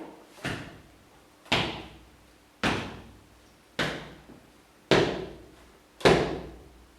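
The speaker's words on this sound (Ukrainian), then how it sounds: "Чути стукіт, кіт рубає і на купочки складає." Six heavy thuds at roughly one-second intervals, each a sharp impact with a short ringing decay, like an axe striking wood nearby.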